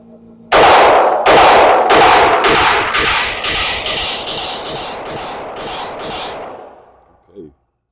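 A Winchester rifle at an outdoor range empties a 12-round magazine: about a dozen loud, sharp shots, close by, spaced roughly half a second apart, with ringing decay between them, then a small mechanical clack after the last shot.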